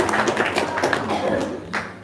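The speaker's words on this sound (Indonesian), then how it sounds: "Tepuk tangan dong." An audience clapping in a hall, scattered uneven claps with thuds mixed in, while voices talk at the same time.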